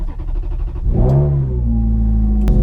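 A 2006 Ferrari F430 engine cranking with a starter whir, then catching and revving hard into a loud, rising roar before settling to a steady, throbbing idle, heard up close with no talking.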